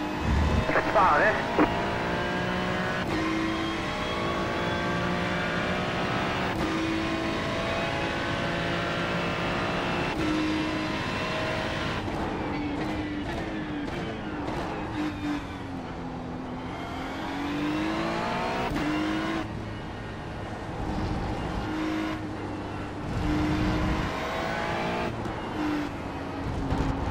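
Ferrari 296 race car engines in the iRacing sim at Indianapolis, a sustained droning engine note that rises and falls with shifts and revs, heard under talking throughout.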